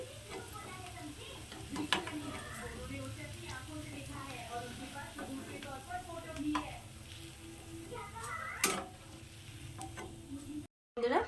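Bhetki fish kebabs frying in a pan, a soft continuous sizzle with scattered crackles and light ticks that stays quiet throughout and ends with a brief cut.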